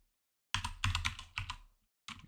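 Quick bursts of keystrokes on a computer keyboard during app development work, clattering in short clusters separated by brief pauses, close and fairly quiet in an otherwise silent room.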